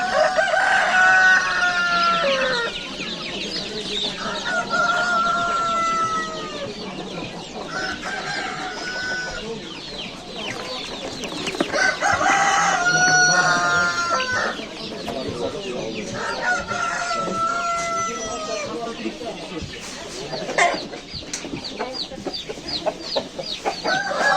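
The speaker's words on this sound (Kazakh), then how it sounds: "Енді домашний балапандар." Chickens cluck and a rooster crows repeatedly at a busy poultry market in Bishkek, the birds loud and close amid general market bustle and occasional voices.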